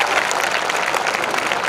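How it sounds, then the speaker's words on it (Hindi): An audience in a seminar hall claps loudly and continuously, a dense, even burst of applause with no pauses. "तो एक बार जोरदार तालियां भीमराव अम्बेडकर"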